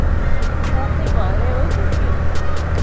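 Road traffic sounds during a scooter ride, a constant loud rumble of engines and wind with passing vehicles, and a voice speaks over it.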